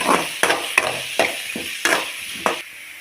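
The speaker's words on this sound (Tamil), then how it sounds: "நாலு பல்லு பூண்டை வந்து நீல வாக்கில் அரிஞ்சு சேர்த்துக்கோங்க கருவேப்பிலை ஒன்று போட்டு நல்லா வதக்கிடலாம்" Sliced garlic and curry leaves sautéing in a pan for potato rice, a close sizzle broken by five or six scraping stirs at a steady rhythm, then it fades near the end.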